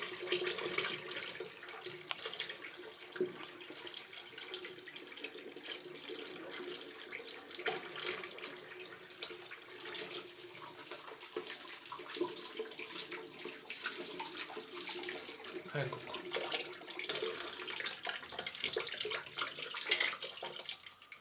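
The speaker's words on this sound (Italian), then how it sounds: "Vado ad aprire l'acqua." Water runs steadily from a tap into a sink, a continuous soft hiss and splash that stays even and moderately quiet throughout, with no voices.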